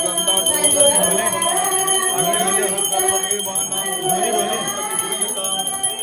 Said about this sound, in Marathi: आरती ओवाळा आणि घंटा वाजवा